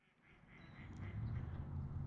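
Several ducks quack excitedly somewhere off to the side along the Rock River, a low, busy chatter of calls that gradually swells louder through the short stretch, with no talking over it.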